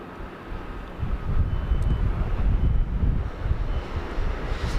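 At Sydney Airport at night, a Jetstar plane slows on the runway as a distant, broad, low engine roar that swells after the first second and holds steady. Some wind buffets the microphone, and no one talks.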